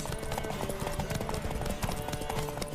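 Steady rhythmic clip-clop of horse hooves trotting in The Witcher 3: Wild Hunt, continuous and fairly loud, over a busy game soundtrack with faint voices underneath.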